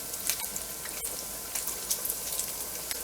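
Bacon frying in a pan for spaghetti carbonara crackles and sizzles steadily at close range, a dense hiss with scattered sharp pops and no voices.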